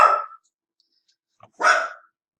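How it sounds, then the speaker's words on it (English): Dogs bark indoors, two separate loud barks about a second and a half apart with silence between them. "I had paused there so the dogs would shut up."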